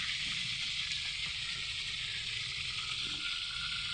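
Pork frying in a pan, a dense, steady sizzle that stays even and close from start to finish with no voices.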